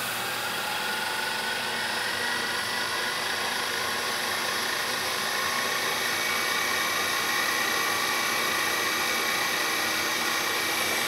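A drill running at about 1900 RPM while boring half-inch-deep holes in low-profile edge vise jaws, giving an unbroken, even whirring hiss that holds steady throughout.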